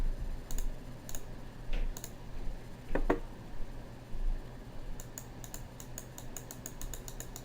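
Soft clicks and taps of a computer mouse and keyboard during Photoshop editing, scattered singly and then in a quick run of clicks, near and quiet over faint room hum.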